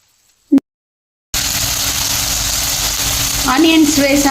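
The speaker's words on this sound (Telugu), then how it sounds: "ఆనియన్స్ వేసాం కదా, ఆనియన్స్ కొద్దిగా పచ్చివాసన పోయే వరకు వేగాలి" Chopped onions, green chillies, mustard seeds, cumin and curry leaves for a hotel-style masala dosa filling sizzle in hot oil in a pan. The frying starts abruptly after a near-silent moment and holds as a steady, close hiss, with a voice briefly talking over it toward the end.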